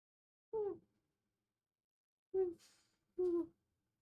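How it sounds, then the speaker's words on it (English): Three short, deep hoots sound at separate moments, with pauses of silence between them, fairly close and clear. "Sound like an owl."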